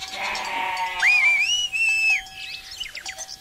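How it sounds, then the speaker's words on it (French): A whistle blast at dawn in a mountain pasture scene, one loud sliding tone of about a second with sheep or goats bleating before and after, close and clear. "Réveillée dès l'aube par un coup de sifflet"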